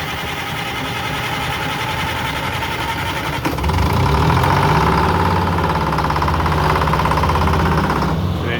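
A circle sawmill's engine, given a shot of ether, cranks over and catches, then settles into a loud, steady idle with a rough mechanical rattle that continues through to the end.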